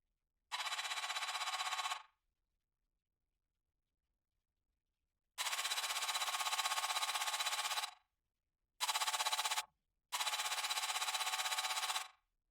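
A high-tech user interface sound built in the Serum synth with a short delay of about 40 milliseconds plays as four bright, buzzy sustained bursts of varying length, separated by silent gaps.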